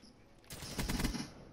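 Rapid automatic fire from a KN-44 rifle in Black Ops 3 comes as a short, fast burst of closely spaced shots, fairly faint and lasting under a second.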